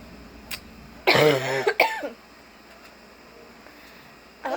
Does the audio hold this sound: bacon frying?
no